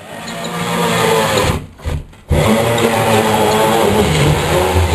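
A power drill drives a screw into sheetrock with a loud, steady whine that drops out briefly in two short pauses, then resumes at full speed.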